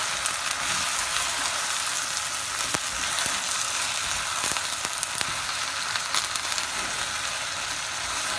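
Chicken and brinjal sizzle and fry in a pan for a curry, giving a steady bright hiss with scattered crackles and pops throughout, no talking over it.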